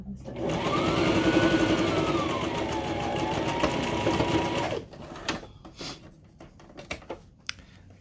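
Sewing machine stitching a straight seam through pinned fabric, a steady loud mechanical whir running for about five seconds before stopping, followed by a few faint clicks and handling sounds.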